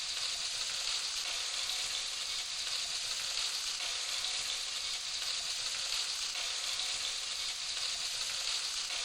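Spice paste for beef rendang sizzles and fries steadily in a pan while being stirred, a dense, continuous hiss that stays close and even throughout with no talking.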